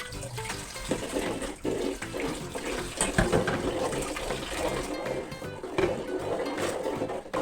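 Water is poured onto grated jaggery for carrot halwa, making a continuous close splashing gush that runs the whole time with small surges, no talking over it.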